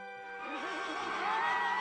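A horse lets out a single wavering whinny, rising into a shaky quivering neigh that carries on for about a second and a half at moderate volume.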